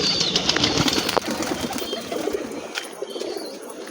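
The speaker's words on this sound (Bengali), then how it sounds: "এখন পয়রার খাবার টাইম হয়ে গেছে বলে সব পয়রা নিচে নেমে গেছে" Pigeons gathered at a tower at feeding time, cooing and fluttering wings close by, a dense continuous mix of soft coos and flapping over outdoor ambience.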